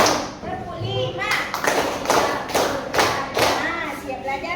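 Children clapping hands in a counting clap game in a classroom, a series of sharp claps in rhythmic bursts with a teacher's voice and children chanting over them.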